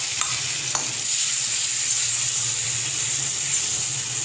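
Gram flour and milk mixture stirred continuously in a hot pan for a sweet cake, with steady close sizzling and scraping and no talk.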